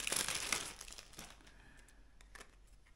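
A plastic packet of Blux fishing lures crinkles loudly up close at first, then eases into a few quieter rustles and light taps.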